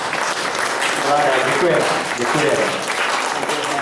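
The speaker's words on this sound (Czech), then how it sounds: "Krásný, přátelé, to zasluhuje potlesk" An audience at a gathering honoring a rally crew that drove a Moskvitch 1600 claps steadily throughout, a dense, even wash of applause with someone briefly speaking over it.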